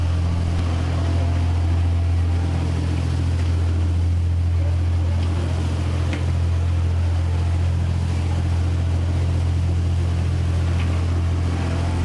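On the Amazon, a small motorboat approaches a river ship, its engine a loud, steady low drone with churning water and wind noise throughout.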